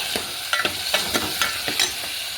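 Food stirred in a frying pan after salt is added: sharp scraping strokes come at a quick, irregular rhythm over a steady close sizzle, with no talking.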